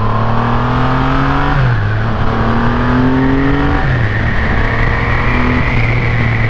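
A car engine revs while driving, climbing steadily in pitch through each gear and dropping at every shift, three times in a row, loud and close with no voices.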